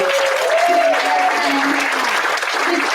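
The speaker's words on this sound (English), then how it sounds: "Let's give a huge round of applause to Brian Bender, who's our sound guy." Audience applause at an annual meeting, a dense steady wash of clapping that holds at full level for the whole stretch, with faint tonal voices or whistles threading through it.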